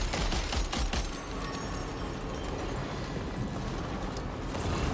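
Gunfire in Death Stranding 2 rattles off in a dense burst of rapid shots aimed at floating balloons, loud and close at first, then continuing as a rough, sustained clatter with no talking.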